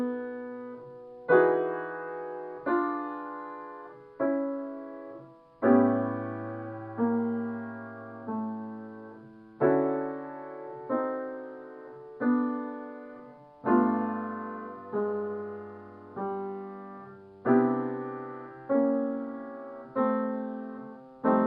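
Jazz guitar chords moving from a major 6th to a diminished 7th and back in the Barry Harris method, each chord plucked once and left to ring, a slow, quiet, evenly spaced sequence with no talk.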